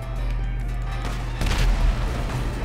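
A heavy explosion in GTA Online, a low rumbling blast that swells midway over an engine-like drone, followed by crackling and rumble as it fades.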